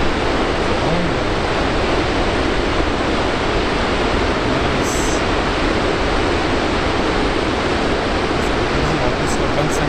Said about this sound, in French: J'avais vu qu'il y avait une cascade, mais là c'est génial hein.